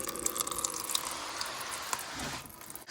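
Coolant drains steadily from the radiator of a 2013 Honda CR-V, a soft continuous trickling and splashing with a few faint drips, close but quiet.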